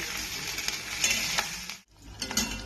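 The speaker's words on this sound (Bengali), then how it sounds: "এবারে এর মধ্যে কাঁচা লঙ্কা কুচিগুলোকে দিয়ে দিচ্ছি" Chopped green chillies hit hot oil with grated ginger in a pan while a Katla fish chorchori is being made, giving a loud, close hiss and crackle of frying. The sizzle cuts out briefly, then returns.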